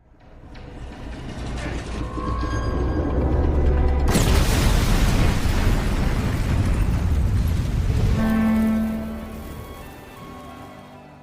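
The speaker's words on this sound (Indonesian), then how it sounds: "Sehingga pada akhirnya bom itu meledak." A sudden loud broadband blast of a bomb exploding cuts in, followed by a long rumbling roar that holds for several seconds before fading, with mechanical clanking beforehand.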